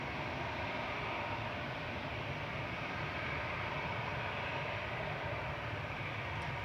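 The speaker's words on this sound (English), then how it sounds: "I don't think that's going to cross before the Eurowings from Professor Dusseldorf lands." A Eurowings airliner from Düsseldorf lands at Manchester Airport on short final, making a steady, broad roar that holds at an even loudness throughout.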